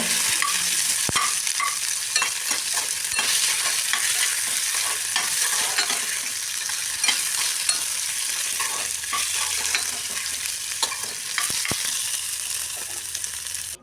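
Lentils, chillies, garlic, onion and tomato fry in oil with a steady, dense sizzle, broken by frequent scraping stirs and small clicks from the spoon against the pan. The sound stays close and even throughout, with no talking.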